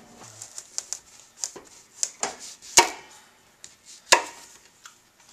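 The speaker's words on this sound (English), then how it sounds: "first I'm going to remove the top to the butternut squash, and then I'm going to cut it in half lengthwise" A knife cuts a butternut squash in half lengthwise, giving a run of sharp, close clicks and knocks against the board at an uneven pace, with no voices.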